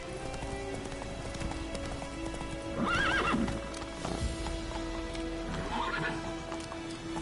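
A horse galloping in The Witcher 3, its hooves drumming steadily throughout, with a loud neigh near the middle and a second, softer whinny later.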